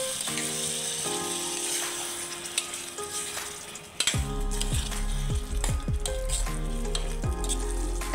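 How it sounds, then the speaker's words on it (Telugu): Tomato puree for methi chicken sizzles and bubbles in a pan, with close, steady frying hiss and occasional stirring clinks as the cooking continues, with no one talking. "టమాటా ప్యూరీ కూడా ఉడుకుతుంది కదా"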